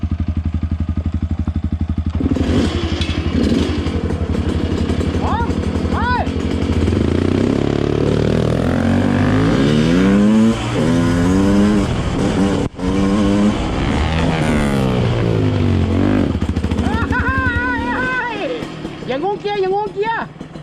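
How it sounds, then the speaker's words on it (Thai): A Yamaha WR155R dirt bike engine starts and revs in the woods, with a loud, near, rising and falling drone that climbs through several revs, then settles and rises again while people talk nearby. "WR 155R น้องทำการสตาร์เครื่อง ครับ รอ แป๊บหนึ่ง"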